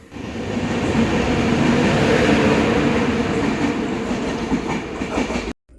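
An express train rolls into platform 2 at Kovilpatti station on the Tambaram–Tirunelveli line, a loud, steady rumble of wheels and carriages that eases slightly near the end before cutting off abruptly.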